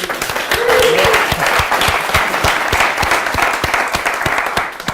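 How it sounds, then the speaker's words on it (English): A conference audience at the ThingMonk 2015 tech event breaks into loud, dense applause. Many hands clap continuously for about five seconds, close and full, with almost no talk. "So a big round of applause to"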